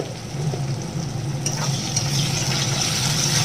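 Duck meat for haser lotpoti frying in a pan with sugar for colour, a steady close sizzle with stirring scrapes throughout and no talking.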